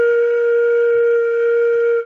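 One sustained flute note holds steady and loud for two seconds, breathy and pure, then fades at the very end.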